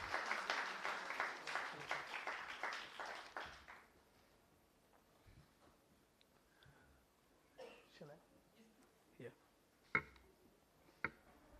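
A crowd claps for Arvind Eye Care at a children's award ceremony, a loud burst of many hands lasting about four seconds before it fades, leaving scattered sharp knocks and quiet shuffling in a hushed hall.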